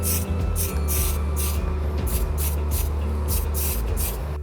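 Primer is spray-painted onto 3D-printed parts of a prop blaster, heard as a steady series of close, hissing aerosol bursts with brief gaps between them, alone with no voices.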